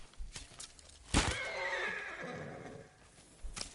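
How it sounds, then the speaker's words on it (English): A horse in the samurai game Ghost of Tsushima lets out a long, wavering whinny after a heavy thump, with a few faint hoof clops around it, moderately quiet and without speech. "Why can't I kill the horse?"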